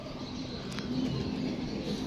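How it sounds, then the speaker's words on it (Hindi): A female pigeon coos faintly in a low, soft, drawn-out tone against steady background noise, with a couple of faint chirps and no talking. "देखो ज़रा कबूतरी"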